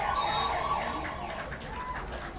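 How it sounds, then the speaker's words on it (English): An end-of-quarter siren at a college football game, SMC against LA Southwest, sounds as a faint, steady tone from a distance over diffuse stadium noise. "did he get out before the siren went off there?"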